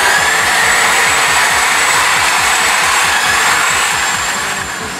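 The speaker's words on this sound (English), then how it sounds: "You'll see me gently moving back and forward, kind of like a saw action." An electric hedge trimmer cuts through garden branches with a loud, steady motor buzz and rapid reciprocating blade chatter, moved back and forth in a sawing action, fading slightly at the end.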